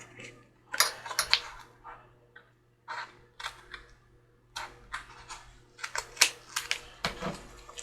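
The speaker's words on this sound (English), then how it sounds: "we'll use my sticky scissors to cut this tape." Sticky scissors snip and crunch through tape in a series of short, close, irregular cuts and rustles, separated by quiet gaps.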